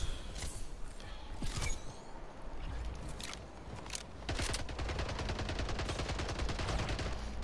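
SMG gunfire in the first-person shooter Splitgate, rapid bursts of automatic shots followed by a long sustained stream of fire, loud and close, with scattered other gunshots.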